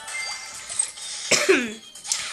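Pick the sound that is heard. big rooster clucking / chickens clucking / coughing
coughing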